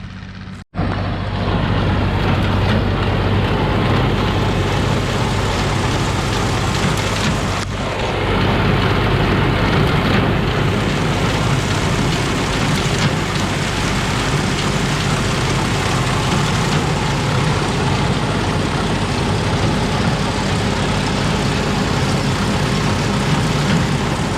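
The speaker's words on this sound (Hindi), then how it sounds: "यहाँ से मशीन कटाई करके ना गड्डियाँ बना रही है" A wheat harvesting machine works alongside a running tractor in a field in Pakistan, giving a loud, continuous heavy engine drone with a broad mechanical roar that holds steady throughout.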